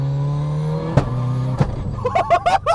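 Mitsubishi Evo VI with a sequential gearbox, engine droning steadily and climbing, sharp clunks of quick gear changes, then choppy revving bursts near the end.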